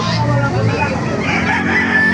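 A white Kelso gamefowl rooster crows in a single drawn-out call at a busy chicken market in Baliuag, Bulacan, close and loud over a background of crowd babble and other fowl.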